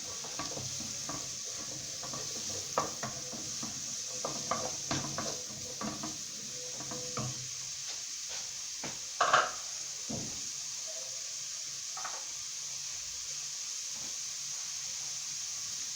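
Onion pieces sizzling in a shallow layer of oil in a pan over the heat, with a steady frying hiss, scattered stirring clatter from a utensil against the pan, and a louder scrape near the middle.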